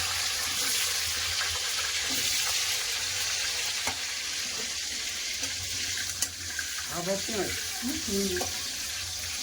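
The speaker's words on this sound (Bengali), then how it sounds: "রসুন ভেজে দিয়েছি, দিয়ে দিচ্ছি পেঁয়াজ" Garlic and onion frying in a pan, a steady close sizzle holding throughout, with a few brief stirring and clinking sounds toward the end.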